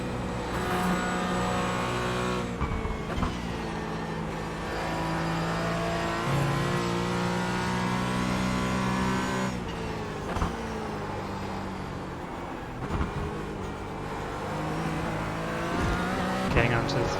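A race car slides out of a corner in the iRacing sim racing game. A steady, close engine drone shifts in pitch as the car loses and regains grip, while a voice talks over it.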